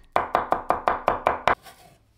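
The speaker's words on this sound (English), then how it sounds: "Cut 2 chicken thighs into chunks." Eight crisp, evenly spaced knife chops through raw chicken thighs on a board, close and loud, stopping abruptly with a faint clatter trailing off afterward.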